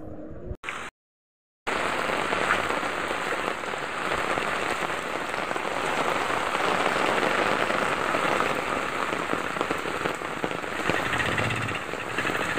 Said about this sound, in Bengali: তেমনি জোরে বৃষ্টি, জল জমে গেছে।